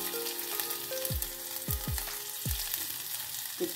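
Green chilli and garlic cloves sizzle and crackle in about half a spoon of hot oil in a pan, a steady frying hiss with a few sharp pops, fairly close and without talk.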